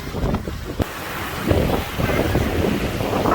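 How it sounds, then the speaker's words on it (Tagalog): Steady wind buffeting the microphone over a broad rush of strong surf at a beach in Subic, with waves churning continuously close by. "mahangin ngayon. Malakas ang alon."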